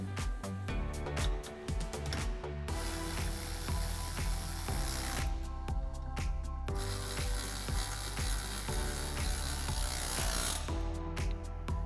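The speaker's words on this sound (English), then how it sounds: "now we can tighten those down using a T30 bit on our electric ratchet" An electric ratchet with a T30 bit runs in repeated short mechanical bursts, tightening bolts while installing a soft top on a Jeep Wrangler JL 4-door, each burst a clicking, whirring rattle heard close up.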